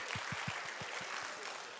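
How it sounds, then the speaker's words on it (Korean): A church congregation at a Sunday service claps in a short run of about eight evenly spaced claps that slow and soften toward the end, over a quiet room hiss. "박수합니다."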